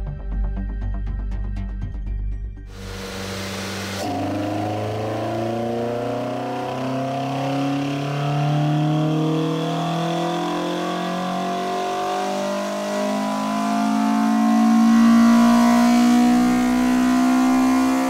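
Toyota Corolla with a 4AGE 20v Blacktop engine revving hard on a dyno, heard close and loud. After a brief lull, the engine note climbs steadily through the gears as a rising, high-pitched wail, its harmonics sweeping upward to full-throttle intensity.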